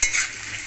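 Aloo potato curry stirred in a pan: a quick, close scrape with a light sizzle that fades within a moment.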